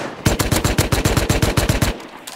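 Automatic gunfire in the video game Rust, a close, loud burst of about a dozen rapid, evenly spaced shots followed by a brief quiet pause and a faint extra shot.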